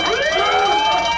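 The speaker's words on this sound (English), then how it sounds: "Mike, you want to play the siren thing and see if we can wake him up?" A siren sound effect plays on a talk radio call-in show, a loud wailing emergency-vehicle siren sweeping up and down continuously with no talk over it.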